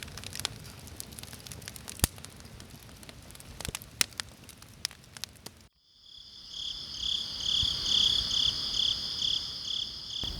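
Crickets chirp steadily at night, a dense, continuous high trilling that swells in after a stretch of quieter crackling background, with layered pulsing calls close and fairly loud and no voices.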